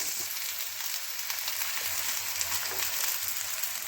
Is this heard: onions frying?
yes